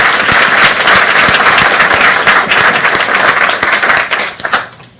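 A large, full room at an SEC and NYU Stern panel event on reviving the U.S. IPO market gives a strong round of applause, close and crisp, tapering off into a few last claps.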